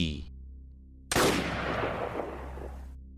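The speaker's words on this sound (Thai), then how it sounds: "เสียงปืนดังขึ้นสนั่นทั่วทั้งบริเวณป่า" A single sudden rifle shot, used as a sound effect for hunting a deer at night in a forest, bursts out loud and rings with a long echoing decay over a low steady hum.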